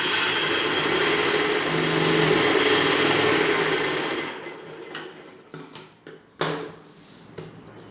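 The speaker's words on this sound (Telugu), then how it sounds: "ఒక చివరన ఇలా మడిచి కుట్టు వేసుకోవాలి." A sewing machine runs a steady, loud, continuous stitch along the folded edge of an umbrella dress for about four seconds, then stops into a few brief bursts of stitching and handling clatter.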